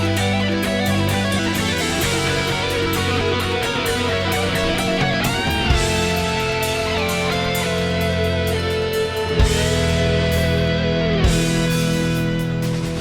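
Distorted electric guitar playing a solo passage, sustained notes with bends and slides, loud and close for about thirteen seconds with no talking.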